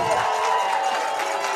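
Spectators at a boys' high school lacrosse game between Lake Norman and MCHS cheer after a goal ties the score, a steady, even roar of crowd noise with scattered shouts that holds throughout.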